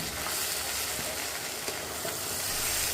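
Mashed potato being stirred into a cauliflower mixture for fulkopir chop, a steady broadband sizzling hiss with soft scraping strokes, close and fairly even throughout, no voices.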